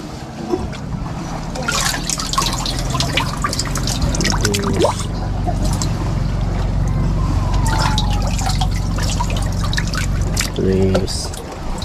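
Water pours and drips into a fish container, splashing and trickling unevenly under someone talking nearby, with a few clunks of handling mixed in.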